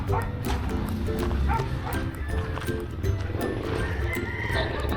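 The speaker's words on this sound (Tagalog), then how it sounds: "Ayan Aso yan eh." A dog barks several times in short, sharp bursts on a rural property with goats, fairly close and loud, mixed with other animal noise and background activity.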